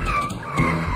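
Jeep tires skid and squeal in a brief, loud, harsh screech lasting about a second.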